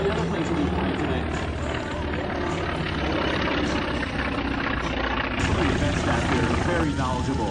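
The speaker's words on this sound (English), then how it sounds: "That looks like when Wildcat makes his landing" A Grumman Wildcat propeller warplane lands at the Fantasy of Flight air show, its heavy piston engine droning loud and continuous throughout, with a steady rumbling roar and no clear pauses.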